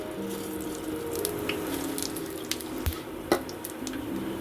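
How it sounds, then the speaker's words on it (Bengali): Nigella seeds sizzle in hot oil for tempering, a quiet, steady crackle and hiss with a few sharp pops and clicks, close by and without talk. "আমি একটু কালো জিরে ফোড়ন দিয়ে দিলাম"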